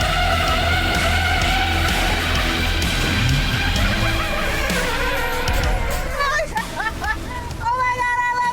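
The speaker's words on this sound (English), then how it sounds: "It's going drifting in a Mack truck." A Mack truck's heavy engine roars as tires screech and skid in a long drift, with a voice shouting briefly near the end.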